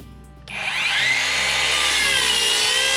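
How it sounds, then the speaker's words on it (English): A Sawzall reciprocating saw starts up and cuts steadily during wood stove and duct work, a loud continuous buzzing rasp that begins after a brief quiet moment and holds without pause. "Get the sawzall, see what I can do."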